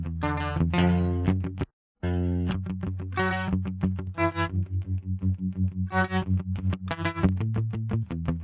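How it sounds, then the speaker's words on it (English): A distorted electric guitar plays a chugging riff of repeated palm-muted notes and chords, with one brief silent gap, heavily processed and up close. "Let me play also this guitar riff that I have here."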